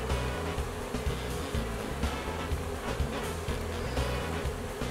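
A dense, steady buzz of many honey bees moving into a speaker-box hive fills the air close by, droning without a break.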